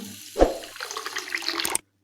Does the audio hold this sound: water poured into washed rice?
yes